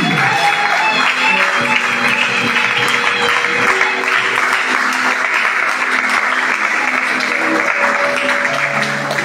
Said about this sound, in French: recevons sous nos acclamations l'apôtre